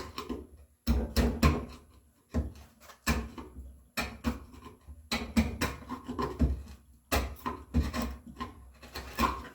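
A hand tool pares excess waste from a dado cut for a shelf in a walnut bookcase, giving repeated close rasping and scraping strokes in uneven bursts separated by short pauses, with no voices.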